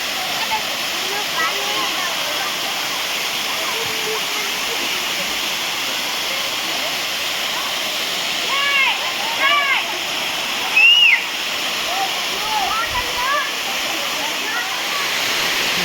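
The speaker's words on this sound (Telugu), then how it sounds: "ఫ్రెండ్స్ ఈ వాటర్ ఫాల్ వ్యూ చూడండి టోటల్గా కొండల నుంచి అయితే వస్తున్నాయన్నమాట" Kona Waterfalls in Andhra Pradesh roars steadily and close for the whole stretch, a dense unbroken rush of water falling from hills, with faint voices barely rising above it.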